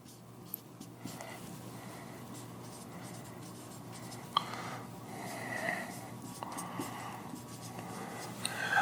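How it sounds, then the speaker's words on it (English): Marker or chalk writing on a board during an engineering lecture, a quiet run of scratchy squeaking strokes in short bursts over soft room hiss, with one sharp tap near the middle. "So let's write this down"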